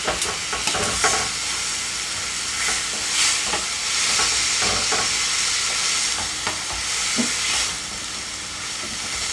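Ground meat browning in a hot pan for shepherd's pie, a steady close sizzle and hiss with repeated scraping stirs, no voices.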